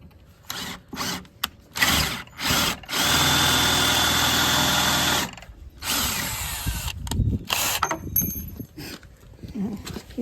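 A power drill fitted with DeWalt drill bits runs in short, close bursts, then holds one steady two-second whine before more stop-start drilling with brief pauses between.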